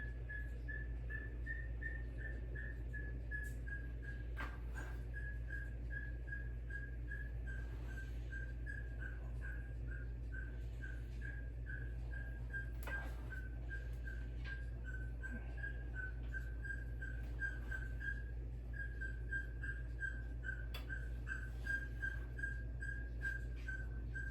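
A pet bird upstairs indoors whistles a long, steady high note that wavers slightly, faint and distant, continuing for over twenty seconds over a low hum.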